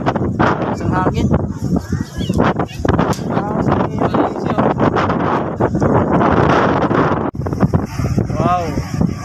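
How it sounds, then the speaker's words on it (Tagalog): Strong wind roars steadily across the microphone, loud and buffeting throughout, with a voice speaking over it and a brief dip near the end. "Sarap po ng hangin rito."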